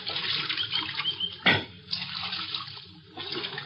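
Water runs and splashes steadily close by at a creek where riders stop to drink in an old-time western radio drama, with one sharper splash midway through and no talking.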